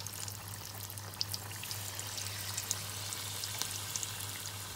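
Maakouda potato patties fry in hot oil on medium heat, giving a steady, even sizzle with scattered small pops and crackles and no talking.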